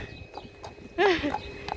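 An Amish horse's hooves clip-clop in a light, irregular rhythm, with a brief voice rising over them partway through.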